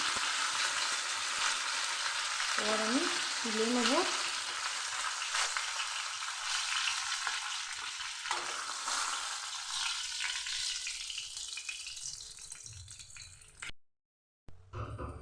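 Rohu fish pieces frying in oil until browned make a continuous crackling sizzle with a few stirring sounds. It fades toward the end, and someone speaks briefly.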